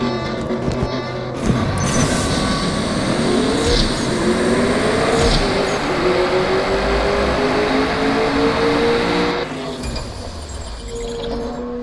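A Shelby Mustang GT500 engine revs and roars continuously in a racing video game, steady and loud for most of the stretch before easing near the end, with no talking.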